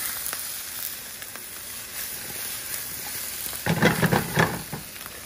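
Brussels sprouts, onions and peppers stirred and sizzling in a wok, a steady low frying hiss with a louder burst of scraping and crackling near the end.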